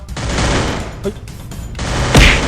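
Rapid MP5 submachine gun bursts from the Free Fire shooting game roar loud and close, a sustained volley that breaks briefly before resuming in a heavy final burst.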